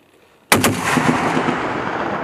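A loud M2 Browning heavy machine gun fired by National Guard soldiers at targets bursts in abruptly after a moment of quiet, its sharp reports rolling into a sustained booming echo that fills the remainder.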